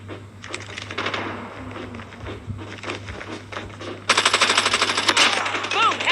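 Gunfire in a mobile shooter video game played on a Samsung Galaxy A12, busy game sounds building into a loud, continuous burst of rapid automatic fire with a steady low hum underneath.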